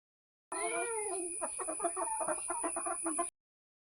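Hens cluck in a steady run of short, close calls, loud and alone, with no voices.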